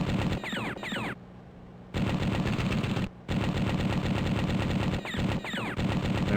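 Aircraft machine guns fire in long continuous bursts during a dogfight in Air Power: Battle in the Skies, loud and close, broken by two short pauses.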